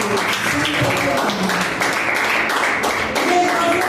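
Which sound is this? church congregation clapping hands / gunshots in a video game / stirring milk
church congregation clapping hands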